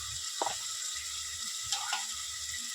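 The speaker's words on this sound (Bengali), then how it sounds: "অল্প করে পানি দেবো" Water poured into a pan of potatoes coated with turmeric, chilli powder and ground coriander and cumin, giving a soft steady hiss and faint sizzle with a couple of light clinks, fairly quiet throughout.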